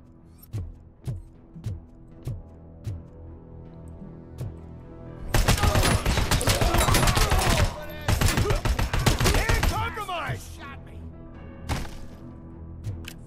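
Player's gun firing in the game RoboCop: Rogue City: a series of evenly spaced single shots, then a dense sustained burst of rapid fire lasting several seconds, followed by a lone final shot.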